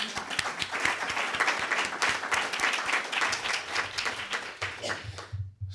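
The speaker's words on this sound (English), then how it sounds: "So I think we should give him a round of applause." A conference audience breaks into sustained applause, many hands clapping in a dense, even wash that holds steady for several seconds before thinning out and stopping abruptly at the end.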